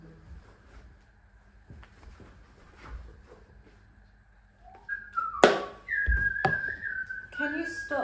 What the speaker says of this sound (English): Can you stop whistling, please?